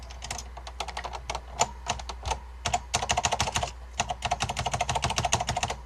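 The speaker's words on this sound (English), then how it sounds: "It definitely sounds like a real Alps board now." Rapid, uneven keystrokes on a restored Focus FK-2001 mechanical keyboard with Alps switches, clicky close-up strikes in quick bursts with brief pauses, no talking.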